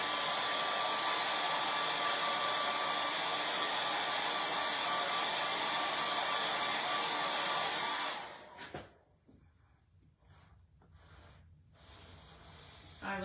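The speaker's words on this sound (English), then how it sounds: "another quick way to dry it is to get your blow dryer, but make sure you're using cool air" A blow dryer running on its cool air setting gives a loud, steady whooshing roar that stops after about eight seconds, leaving quiet room sound with faint movement.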